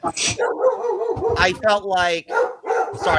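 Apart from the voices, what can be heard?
dog barking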